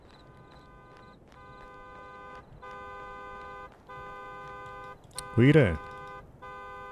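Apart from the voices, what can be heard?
car alarm in a horror video game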